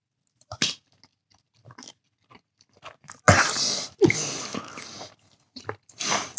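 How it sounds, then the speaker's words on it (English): Someone bites into a Japanese snack, a loud crisp crunch followed by several wet chewing and squishing sounds up close, with soft breaths and small mouth noises before and between the bites. "No, I'm gonna eat this whole thing."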